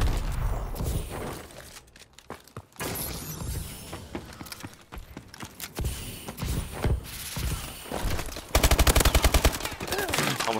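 Automatic AK rifle fire in the shooter game Call of Duty: Advanced Warfare, with dense rattling bursts, scattered single shots, mechanical clatter and footsteps, ending in a loud, rapid sustained burst close by.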